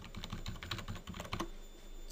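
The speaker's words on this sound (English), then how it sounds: "I'm just going to enter in my password here" A password typed on a computer keyboard: about a dozen quick, close key clicks in an uneven rhythm over roughly a second and a half, then a near-silent pause.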